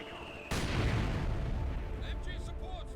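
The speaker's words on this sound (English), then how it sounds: "Mortar pit's starting to open up." Mortar fire in Company of Heroes 2, heard as a sudden heavy blast that rumbles on and slowly decays, followed by faint pings and whistles of battle in the background.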